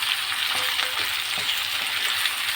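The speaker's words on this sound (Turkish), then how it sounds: "Bir tane domates doğradım. Onu da beraber kavuracağım." Chopped tomato sautéing with onion in a pan for Turkish liver kavurma, giving a steady, close, moderately loud sizzle and fry crackle throughout with no voices.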